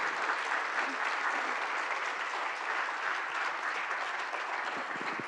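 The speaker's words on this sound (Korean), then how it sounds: "우리 5분에게 다시 한번 여러분들 열띤 박수 부탁드리도록 하겠습니다" An audience at the closing ceremony of the first Asia-Pacific Young Leaders Forum in Jeju applauds five honorees warmly, a dense, even wash of clapping that holds steady from start to finish.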